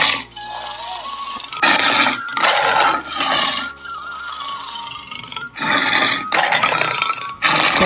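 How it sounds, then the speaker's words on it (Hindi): Roaring lion in an animated Hindi jungle story, with several loud, broad bursts of roaring separated by quieter stretches of music-like background. "शेर की दहाड़ सुनकर सभी जानवर डर के मारे भागने लगे।"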